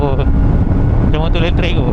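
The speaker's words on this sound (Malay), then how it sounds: "Tengok engine braking ni kuat tu." A Kove 450R four-cylinder naked motorcycle drones loudly through deceleration, ABS and traction control disabled, its pitch shifting under engine braking, with wind buffeting the microphone.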